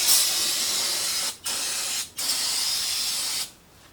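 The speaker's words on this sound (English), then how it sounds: "So we'll go ahead and take a little brake clean." Brake cleaner sprays from an aerosol can onto a Harley Sportster chopper's motorcycle brake rotor in a workshop: three loud close hissing bursts, the first two cut by short pauses, then the spray stops.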